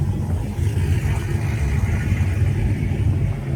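Infiniti car engine revving loudly at a Houston car meet, a steady low rumbling roar with rising revs, close by and continuous, mixed with surrounding street noise.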